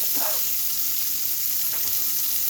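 Shrimp fry in a hot pan with a bright, continuous sizzle and a few soft scrapes as they are moved about.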